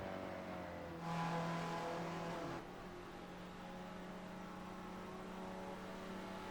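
Race cars in a racing video game cross the finish line at Michelin Raceway Road Atlanta, their engines droning at a distance with one brief louder surge as a car passes close by.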